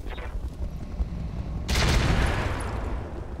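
Airburst weapon fire in the mech combat game RogueTech (BattleTech): a low rumbling backdrop, then a sudden broad blast at mid-clip that lingers as a loud, sustained roar before slowly easing off.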